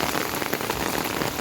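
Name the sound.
heavy rain falling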